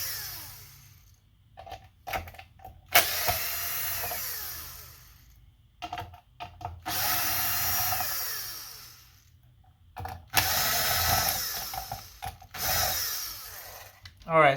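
Electric screwdriver driving out the last T9 screws from an Xbox Series S motherboard, close whirring bursts separated by silent gaps and faint clicks.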